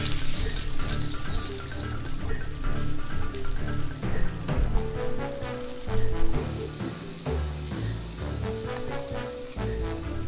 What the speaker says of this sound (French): Je vais donc ajouter un filet d'huile d'olive et du beurre noisette dans la poêle. On va pouvoir passer à la cuisson du saumon meunière Max.